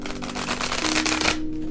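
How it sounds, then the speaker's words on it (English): A deck of tarot cards being shuffled by hand, a quick run of soft papery riffling clicks lasting just over a second and then stopping, close and quiet. "I pre-shuffled my decks, but I like to shuffle them just one more time"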